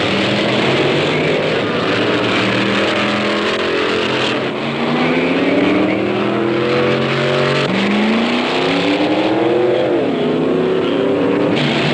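Loud hot rod engine roaring through drag racing practice runs, revving and shifting pitch in sweeping rises and falls, continuous and close throughout.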